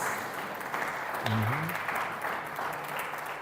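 Applause from a church congregation, a steady wash of many hands clapping at moderate volume, with a voice briefly rising over it.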